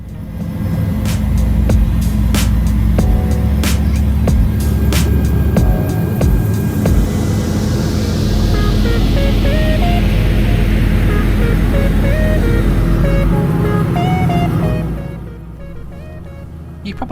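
A Blade helicopter flying from Manhattan to JFK at about 500 feet gives a loud, steady rotor and engine drone that holds throughout, then eases off near the end, with a voice speaking over it.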